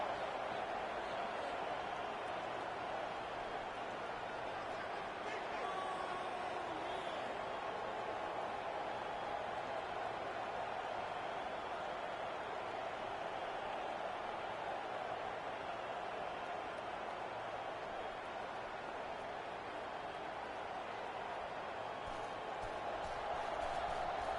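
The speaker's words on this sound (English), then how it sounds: "this crowd is feeling themselves after that last drive" A stadium crowd in the NCAA 26 college football video game keeps up a steady, dense roar from start to finish, with no clear peaks.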